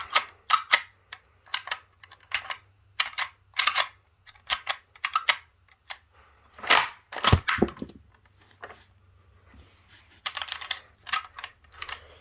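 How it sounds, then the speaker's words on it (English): Inert rounds cycled through a K98k Mauser rifle action produce sharp metallic clicks and clacks in irregular clusters, close and crisp against near silence, with a heavier rattling clatter of the bolt partway through. "it feeds fine, and it doesn't jam when you push that round in there"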